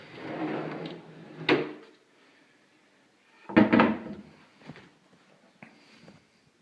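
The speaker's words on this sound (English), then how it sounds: "we got this old TV door" An old wooden TV cabinet door creaks open and thuds shut twice, close by, with soft clattering in between and quiet pauses.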